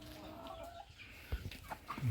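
Chickens in a coop let out short clucks and murmurs, close by and moderately loud, with a louder squawk near the end.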